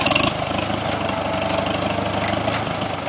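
A Farmall H tractor engine runs steadily at idle, loud and close, with an even low chugging throb that holds without change.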